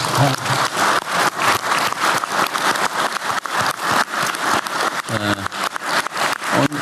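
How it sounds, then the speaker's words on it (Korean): Applause for the prime minister at a South Korean cabinet meeting, many people clapping in a brisk, close, continuous patter, with a brief voice partway through. "우리 고생하신 총리님한테 박수 한번 드릴까요?"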